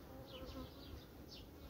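Honey bees buzz around a weakened colony short of young bees, a faint, steady hum with a few brief louder passes of single bees close by.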